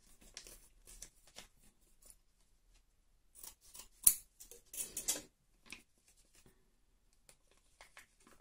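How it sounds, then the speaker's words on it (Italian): Scissors cut open a sheet mask packet for a Dr.Jart Ultra Jet Peeling Solution mask: a run of quiet, crisp snips and crinkles, some clustered and some spaced apart, heard close with no voices. "a questo punto ci vogliono le forbici perché non c'è nessun tipo di apertura"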